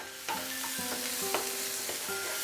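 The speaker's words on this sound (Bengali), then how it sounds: "এবারে মিডিয়াম টু হাই ফ্লেমে আমি 2-3 মিনিট এটাকে সতে করে নিচ্ছি" Chicken salami sautéing in a pan over a medium-high flame, a steady close sizzle broken by repeated clinks and scrapes of a spatula stirring against the pan.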